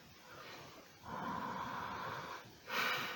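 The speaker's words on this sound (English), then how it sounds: "So let's have a little sniff." Several breathy sniffs at a glass of raspberry sour beer, close and fairly quiet, with a longer inhaling sniff in the middle and a sharper one near the end, no talking.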